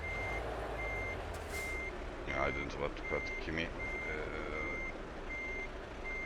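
A truck in the Euro Truck Simulator 2 video game sounds steady, evenly spaced reversing beeps over an engine drone, with someone speaking over the middle of it.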